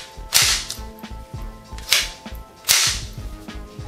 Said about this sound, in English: the bolt gives a satisfying loud clank when you let it snap forward